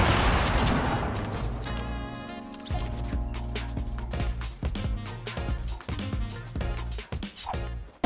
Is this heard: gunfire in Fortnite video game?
yes